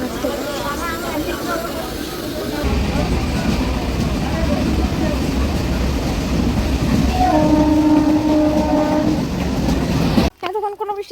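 A train rumbles along with rhythmic clatter, heard while riding on board in the rain, then a long horn blast sounds nearby before the noise cuts off abruptly; people talk faintly in the background.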